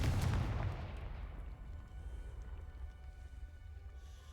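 Confringo fire spell blasting in Hogwarts Legacy: a loud, booming explosion bursts at the start, then a long rumbling decay with crackling debris fades under a low steady roar.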